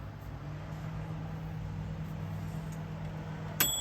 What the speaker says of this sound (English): this now will run the microwave